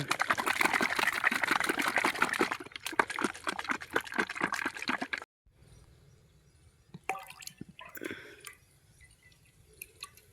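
Water poured into a can to mix pesticide, first a strong, close gushing splash for several seconds, then a pause followed by scattered drips and trickles.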